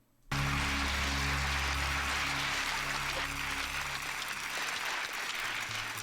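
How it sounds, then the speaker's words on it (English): A TV studio audience applauds a truthful answer on a game show, with steady, loud, full-room clapping that bursts in after a brief pause and holds evenly over a low musical bed. "The audience is applauding the truthful answer"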